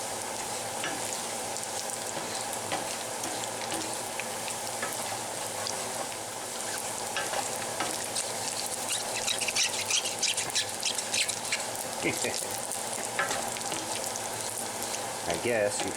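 Bacon sizzling in a Stargazer cast iron skillet, a steady dense crackle and hiss that runs throughout, close up, with occasional louder pops and spatters.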